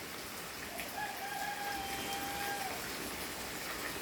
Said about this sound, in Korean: 여기 뭐 닭도 울고